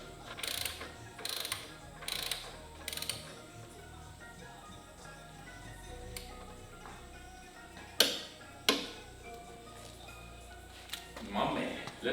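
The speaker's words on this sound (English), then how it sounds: "When you hear that click sound, then you know you did." Sharp mechanical clicks from Harley-Davidson Road Glide front fork parts snapping into place. A few soft ratchet-like ticks come early, then two louder, distinct clicks stand out over a quiet workshop background.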